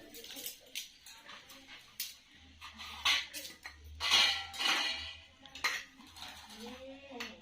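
Steel bowls and spoons are handled in a village kitchen, a run of irregular clinks, taps and scrapes close by at low volume, with a bit of faint background voice.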